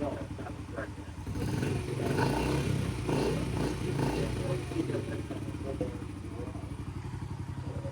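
A new Yamaha TTR50 small motorbike idles and revs nearby, a low buzzing engine drone that swells briefly and then settles into a steady putter. Faint clatter sits under it, with a voice in the background.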